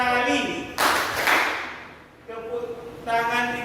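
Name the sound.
class clapping hands twice on teacher's command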